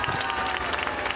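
Audience applause at a deputy's first activity report event in Cuernavaca, a steady dense clapping from a crowd that stays loud and even throughout with no pause.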